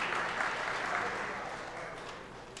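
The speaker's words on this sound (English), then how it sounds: "You can applaud that." At a holiday charity broadcast event, an audience applauds in a steady wash of clapping at moderate distance that slowly fades over a couple of seconds.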